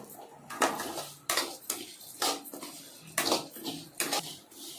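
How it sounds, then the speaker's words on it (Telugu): Vermicelli (semiya) being dry-roasted in a pan, heard as repeated metallic clanks and scrapes of a spoon against the pan at an uneven rhythm, close and fairly quiet. "బాగా వేయించాలండి, దూరగా వేయించుకోవాలి ఆ సేమియాలు"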